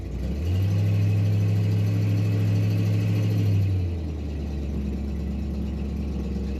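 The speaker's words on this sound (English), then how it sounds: "Some of that exhaust sounds like it's coming out under the car, which gives it a nice throaty sound." A 1957 Chrysler Windsor two-door hardtop's engine, some exhaust escaping under the car, holds a heavy throaty idle, then drops to a lower, softer, steady rumble near the end.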